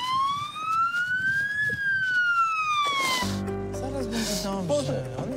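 Ambulance siren wailing loud and close in a street emergency, a rising then falling tone that cuts off abruptly partway through into other sounds and a voice.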